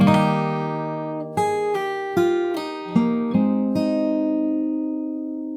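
Guitar plays the opening of a song from The Last of Us Part II: a long ringing chord, then a slow run of single plucked notes, each clear and close, sustaining into a final held chord.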